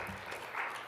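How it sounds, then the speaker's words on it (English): Scattered applause from people in a church congregation, a brief patch of clapping at moderate distance, soft and diffuse throughout. "whoever's clapping back there"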